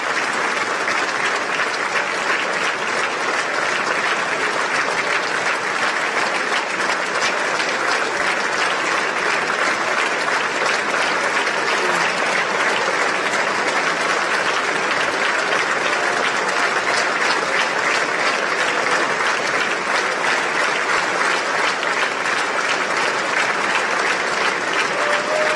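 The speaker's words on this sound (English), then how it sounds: "This is really how long they clap" Long, sustained audience applause after a political speech, a dense unbroken wash of clapping that holds steady at full level throughout with no voices above it.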